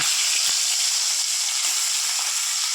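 Salted, turmeric-coated catla fish fries in oil with a loud, steady hissing sizzle, close by, with a couple of faint knocks and no voices.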